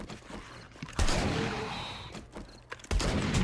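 Hunting rifle gunshots in the zombie survival game 7 Days to Die, two or three sharp loud cracks spaced apart, each trailing into a rumbling decay amid mechanical clatter.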